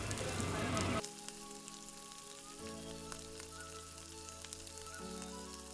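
An egg fries in hot cooking oil in a pan, starting with a loud burst of crackling and spattering, then easing into a steady, quieter sizzle that carries on to the end.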